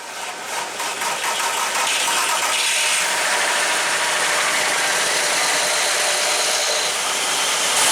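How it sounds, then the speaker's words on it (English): A car engine runs steadily after being started, a car with a broken oil pan that was driven with no oil. The loud, even mechanical whir and idle hum carries on throughout with no talking. "So I started it up and I let it run for a minute"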